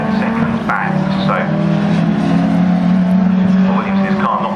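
Euro Saloons race cars at Snetterton circuit give a loud, steady engine drone with shifting pitch as they lap among slower traffic, heard under continuous commentary.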